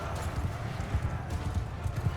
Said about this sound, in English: Still some horses over here